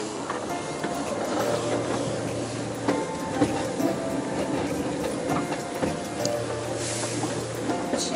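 Train running on a railway in Taiwan, heard as a steady rumbling roar with faint rhythmic clatter and an occasional low hum, continuous for the whole stretch.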